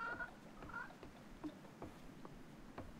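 A cat in a video game gives faint, thin meows and small squeaks, set low against a soft hiss of background noise, with a few faint taps scattered through.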